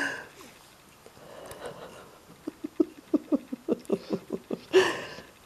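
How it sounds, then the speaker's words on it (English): Dog's tail wagging and thumping, a run of about a dozen quick soft taps in an even rhythm, close and fairly quiet, ending in a brief louder rustle. "Stop wagging your tail, it's making a noise."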